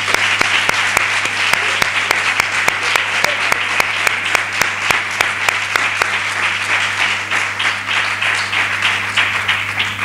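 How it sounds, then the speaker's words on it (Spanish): Steady crowd applause at a programme's closing ceremony, with dense clapping throughout, loud and sustained for the whole stretch, a low hum underneath. "Un aplauso para ella."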